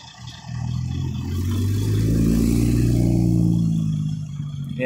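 A 2017 Porsche 911 Turbo S with a subtle exhaust system approaches and revs, its engine note rising in a steady, loud swell over about four seconds before easing slightly, with no talk over it.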